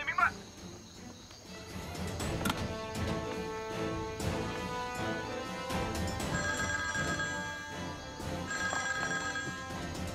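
A telephone rings in a military field command post during a wartime exercise, with a bright repeated electronic trill over background music and ambient noise.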